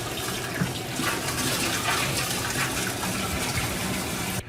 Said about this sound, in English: And we're going to run hot water in the tank.